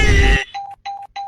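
A cartoon doorbell rings: a tone cuts in after a loud burst, then three short, evenly spaced electronic chimes sound clearly and alone.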